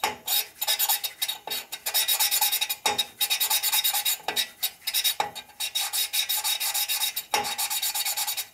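Engine valves on a 1965 Harley panhead 74ci FLH motor are lapped with lapping compound, giving a rhythmic gritty rasping in repeated back-and-forth strokes broken by short pauses, close and fairly loud.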